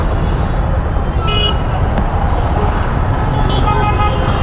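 Dense road traffic during the Ballari Utsav 2023 festival at night makes a loud, constant roar, with a car horn tooting briefly twice over the vehicle noise.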